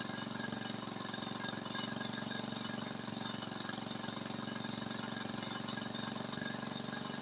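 A small engine adjusted to run on petrol instead of kerosene idles steadily, a close, even, rapid chugging hum with a constant knocking pulse throughout, no voices.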